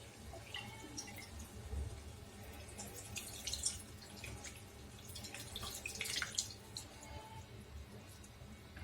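Faint liquid sounds of tamarind soaking water being poured and trickling into a pan, with soft drips and splashes at low volume.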